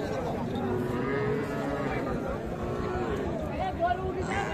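Calves and cattle mooing repeatedly at a busy livestock market in Aftabganj, with a steady crowd hubbub and people talking close by throughout.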